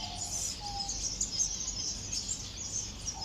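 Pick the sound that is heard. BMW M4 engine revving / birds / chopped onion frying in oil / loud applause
birds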